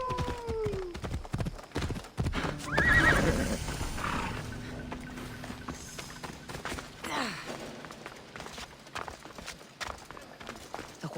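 In Assassin's Creed Odyssey, a sturdy horse's hooves clop irregularly at close range, with a whinny and snorting breath partway through, set against game ambience.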